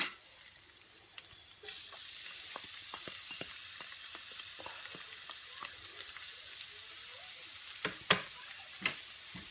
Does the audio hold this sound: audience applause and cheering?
no